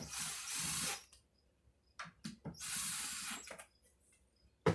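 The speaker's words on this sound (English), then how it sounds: "put the control panel back on, push it up to where it belongs, and slowly screw these in" A screwdriver drives control panel screws back into an arcade bartop cabinet in two close bursts of ratcheting, whirring turning, separated by quiet gaps and ending with a faint click.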